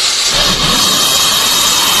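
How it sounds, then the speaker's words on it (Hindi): A green anaconda in dense forest gives a loud, sustained airy hiss, a close, unbroken rush of breathy noise from start to finish. "ये एक ग्रीन एनाकोंडा की आवाज थी"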